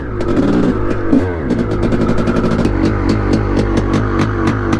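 A rebuilt 1989 Honda CR500R two-stroke motorcycle engine runs loud and close, throbbing and revving with a fast, rattling exhaust pulse that quickens into sharp repeated bursts.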